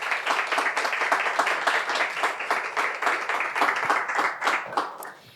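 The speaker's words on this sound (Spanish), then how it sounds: "Un fuerte aplauso para ellas, por favor." An audience claps for two guests, Lucy Caballero and Dolores Reyes, with dense, lively applause that holds steady for several seconds before thinning slightly at the end.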